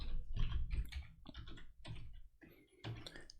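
Typing Python code on a computer keyboard produces a close, steady run of clicky keystrokes in short bursts with brief pauses, and no voice is heard.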